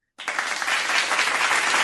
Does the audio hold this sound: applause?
yes